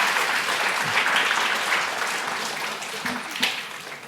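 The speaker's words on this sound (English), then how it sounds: "Let's give everybody a round of applause for that round." Audience applause at a school geography bee, a steady, dense clapping from a room full of people that holds for about four seconds before tapering slightly, with no one talking over it.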